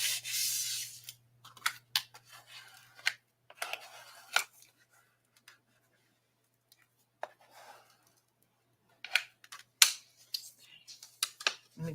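A bone folder burnishes paper folds while a card box is being made, producing scattered short rubbing and scraping strokes between quiet gaps, close and fairly faint, over a low steady hum.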